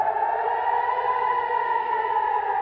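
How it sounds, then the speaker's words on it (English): Air raid sirens sound across a region in Israel during an Iranian attack, a sustained wailing civil defense tone that holds steady and slightly drifts in pitch, loud and alone without any talk. "Across the region, air raid sirens sounding."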